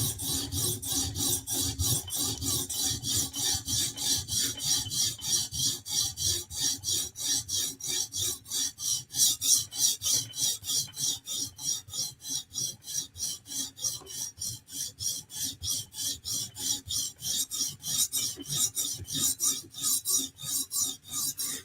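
A Chris Reeve Sebenza blade is honed on a TSProf sharpener in steady, rapid back-and-forth rasping strokes, close and even in rhythm, continuing without pause throughout.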